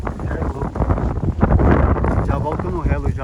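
Strong gusts of wind buffet a microphone outdoors during kite flying, a loud, continuous rough rumble with a voice faintly mixed in.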